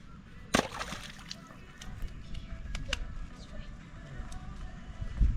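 Water of a small stream sloshing and splashing as trekkers wade across it amid green forest in Meghalaya on the way to Phe Phe Falls, with a sharp splash early on and voices talking over the steady burble.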